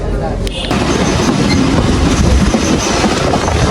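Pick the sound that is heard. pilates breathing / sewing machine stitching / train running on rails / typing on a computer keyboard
train running on rails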